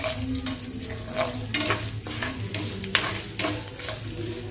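Urad dal, chana dal, a couple of dried red chilies and five or six cashews crackle in hot oil for a tempering, a loud, continuous sizzle with repeated stirring scrapes and clinks close by.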